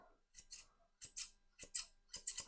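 Grooming scissors snip through a miniature poodle's fur in quick paired cuts, four crisp close-up bursts of two snips each spaced evenly in a quiet room.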